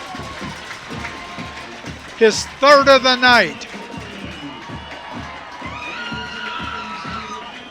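A high school varsity football crowd roars after a Lake Orion Dragons touchdown against Oxford, with a burst of loud shrill cheers and whistles in the middle while an announcer talks over the noise.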